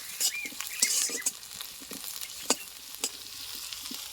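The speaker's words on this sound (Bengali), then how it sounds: "সেই জন্য ধিমি আছে এই মশলাটা আমি ভেজে নিচ্ছি" Green chillies, ginger pieces and dried coconut fry slowly over low heat, giving a quiet, uneven crackle with scattered pops and the soft scrape of stirring.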